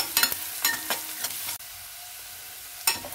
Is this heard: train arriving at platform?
no